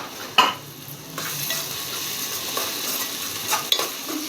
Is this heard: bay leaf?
yes